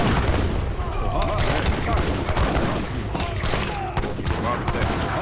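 Musket volleys crackle in a busy Age of Empires 3 Definitive Edition battle, ragged bursts of gunfire over constant battle noise, with voices calling out in game.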